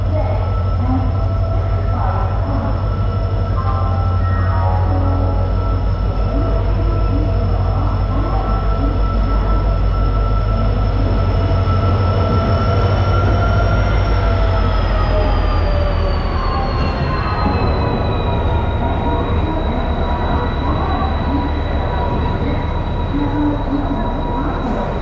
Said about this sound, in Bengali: ট্রেন আমাদের প্ল্যাটফর্মে দিচ্ছে 12021 বারবিল জনশতাব্দী এক্সপ্রেস।